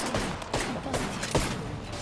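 Rapid gunfire from a gun in a video game crackles in short bursts, close and fairly loud, with a few sharper shots standing out over a busy background.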